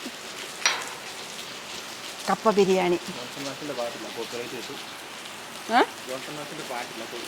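Steady rain hisses in the background while a person talks over it.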